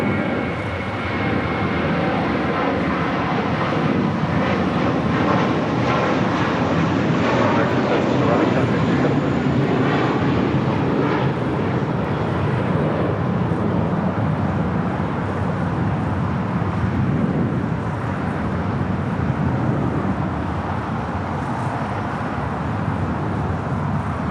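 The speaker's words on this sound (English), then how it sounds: "This is the American 777 heading to Denver." An American Airlines Boeing 777 takes off from runway 25 left at LAX bound for Denver, carrying the LA Rams football team; a loud, steady jet roar fills the whole stretch without easing.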